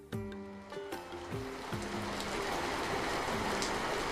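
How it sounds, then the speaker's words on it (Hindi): Heavy rain falls in a dense, steady hiss that swells in as a short musical phrase fades out at the start, then pours on alone. "एक दिन भारी बरसात शुरू हो गई।"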